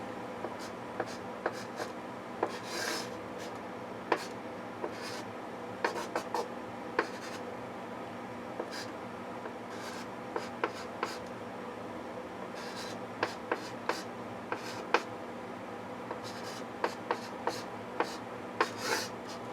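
Pen or marker scratching across paper while an augmented matrix of four equations is written out by hand, a close, quiet run of short strokes and taps with brief pauses, no talking.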